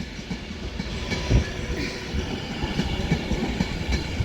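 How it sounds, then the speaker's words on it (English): Avanti West Coast passenger train running through Crewe station on the West Coast Main Line, a steady rumbling roll with light clickety-clack of wheels over rail joints, fairly close and continuous, with no voices. "This is forming the 1352 Avanti West Coast service to London Euston via Birmingham New Street."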